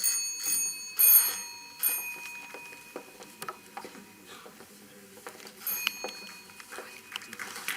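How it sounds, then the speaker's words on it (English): A ceremonial bell rings at the inauguration of an annual entrepreneurship summit, giving several bright, separated strikes with ringing decay, interspersed with faint ambient hall noise. "Ms. Sangeeta Rai, and Ms. Urvashi Verma, for ringing the bell and the commencement of Oblivion 2025."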